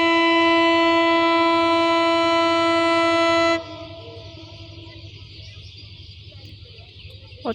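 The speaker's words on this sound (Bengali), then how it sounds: "ট্রেনের হুইসেল আশা করি শুনতে পাচ্ছেন।" The Rangpur Express crosses the Damontola bridge on an afternoon run. Its loud, close horn sounds as one long sustained blast for several seconds, then cuts off and leaves the rumbling clatter of the passing train.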